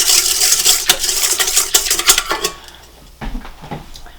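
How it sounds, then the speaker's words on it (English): Sugar is whisked into liquid in a bowl while baking a king cake, with rapid, bright metallic clinking and scraping close up, easing off before a few final taps. "I am going to give that a whisk to dissolve the sugar somewhat"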